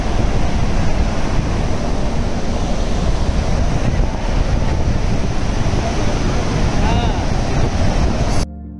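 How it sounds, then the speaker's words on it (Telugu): The Saraswati river roars over rocks near Mana village, a loud, steady rushing wash of water with wind buffeting the microphone. It continues without a break, then cuts off abruptly at the end. "కొండరాళ్లని బద్దలు కొట్టుకుంటూ విపరీతమైన హోరుతో ప్రవహిస్తున్న సరస్వతీ నదిని చూసి తీరాల్సిందే"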